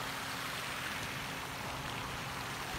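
Water pours from an outdoor waterfall at a dinosaur museum, where a dinosaur sculpture spouts the cascade. It makes a soft, steady, even rush with no breaks, heard faintly and alone.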